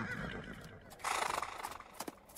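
A frightened horse gives a loud, shrill whinny that surges after a quieter opening and trails off in shaky bursts, with faint hoof clatter near the end and no voices.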